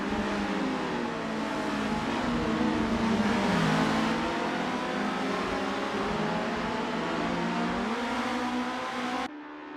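Race cars at the start of a race in the video game Assetto Corsa, a dense steady engine drone with several overlapping revving pitches rising and falling, continuous and moderately loud with no talk.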